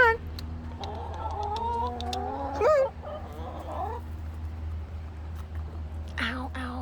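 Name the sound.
chickens clucking while eating worms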